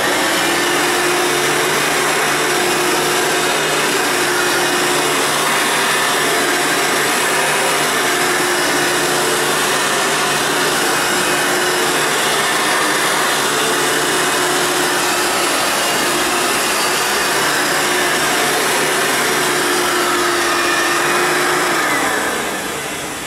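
An Elite vacuum cleaner runs continuously at close range, a loud steady whine with a fixed motor tone, then winds down at the very end; no one speaks over it.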